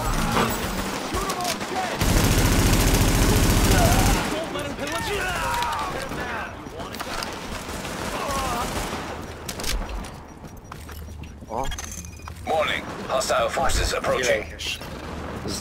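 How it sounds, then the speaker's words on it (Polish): Gunfire from a firefight in the video game The Division, with a dense, loud burst of rapid shots near the start followed by scattered shots and explosive booms, while players talk over the action. "Nie zadawaj pytań, tylko strzelaj."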